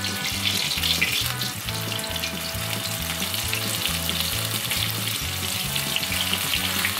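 Steady, loud sizzling of chicken strips frying in hot oil, a continuous crackling hiss with no voices.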